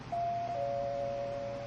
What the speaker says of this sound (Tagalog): Nag-doorbell na sila.